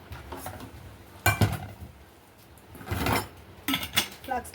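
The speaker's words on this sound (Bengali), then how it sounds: "ওখানে এক বেসিন বাসন রয়ে গেছে ওগুলো মাজবো" A basin of dishes being washed in a small home kitchen: bursts of clinking, clattering metal and ceramic with scraping and sloshing, arriving in uneven clusters with quiet gaps, close by.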